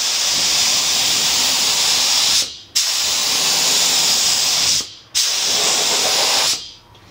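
A cheap HVLP paint sprayer with its flow turned way up gives a loud, steady close-up hiss in three long bursts, each cut off sharply by a brief pause before the next trigger pull.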